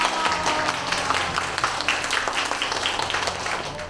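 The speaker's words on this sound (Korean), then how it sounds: "큰 박수로 맞이해주세요." An audience gives a dense, even round of applause to welcome an interviewee, the clapping continuous and fairly close, lasting a few seconds with little else beneath it.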